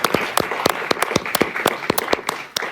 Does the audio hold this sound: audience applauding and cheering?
yes